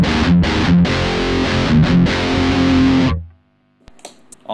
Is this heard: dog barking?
no